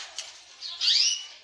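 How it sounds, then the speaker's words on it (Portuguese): A pet macaw moves about and flaps its wings nearby, giving short rustling flutters that build to a louder burst of flapping toward the end, with no talking. "Um arara aqui, ó. Olha a bagunça que ela faz aqui"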